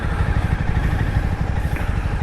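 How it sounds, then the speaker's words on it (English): A 2018 KTM Duke 390 fitted with a Termignoni slip-on exhaust, its single-cylinder engine running with a loud, close, steady low thrum and a rapid pulsing beat throughout. "riding this 2018 Duke 390, which has a Tomignoni slip-on exhaust."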